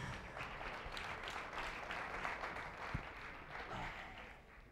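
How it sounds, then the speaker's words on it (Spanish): An auditorium audience at a business talk applauds a speaker, a steady, faint wash of clapping that lasts several seconds. "Un aplauso a Pedro"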